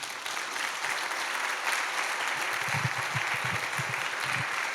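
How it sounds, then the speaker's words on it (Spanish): A church congregation claps at a Sunday service, a continuous, moderately loud wash of many hands that holds steady from start to finish, with faint low thumps underneath. "Voy a pedirle que le den un fuerte aplauso al Señor."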